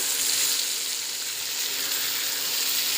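Papaya and potato pieces frying in a pan with salt, a steady close hiss and crackle of hot oil with no stirring or voices.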